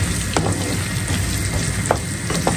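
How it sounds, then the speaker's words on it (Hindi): Chopped onions frying in a pan with whole spices give a steady, close sizzle throughout, broken by a few brief scraping stirs. "प्याज डालने के बाद थोड़ा सा प्याज को फ्राई किया"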